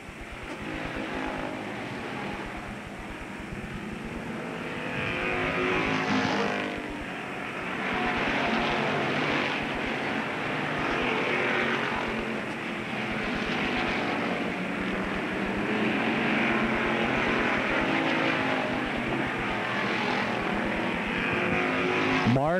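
Race cars roar around the oval at Avilla Motor Speedway during a 1995 season-closing race, a loud continuous engine drone that swells and fades as the pack passes, with an announcer calling under it.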